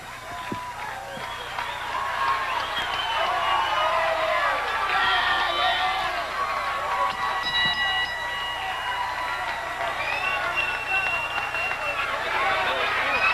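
Crowd at a 1986 WWA Bruiser Bedlam pro wrestling event roars and cheers in a sustained, loud wash of noise with whistles and shouts, under a commentator's voice.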